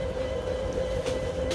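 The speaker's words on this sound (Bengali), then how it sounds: "অন্যতম একটা লোকোমোটিভ 2900 সিরিজের" A white 2900 series diesel locomotive hauling a special train in a Bangladesh train simulator game gives a steady droning engine hum over low rolling rumble, continuous and unbroken.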